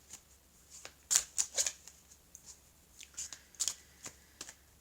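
A deck of oracle cards being shuffled close by, with several crisp riffling bursts and soft slaps in an irregular rhythm against a quiet room.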